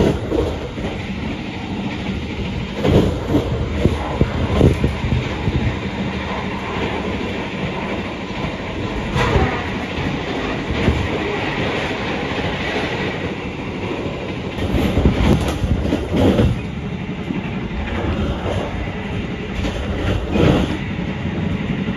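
The KA Taksaka passenger train runs on rails between Yogyakarta and Jakarta, heard from on board as a continuous loud rolling rumble with periodic wheel clicks over the joints and no voices.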